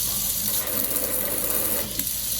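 A Delta Varos kitchen faucet runs water in its rinse spray mode, a steady close rushing stream with faint mechanical hum underneath throughout.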